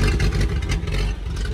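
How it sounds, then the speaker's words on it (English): An old truck's original, all-original flathead six engine idles very low and choppy, a close, steady low rumble with uneven pulses throughout and no talk over it. "we got her idling. She's at like a very low idle, so she's a little choppy."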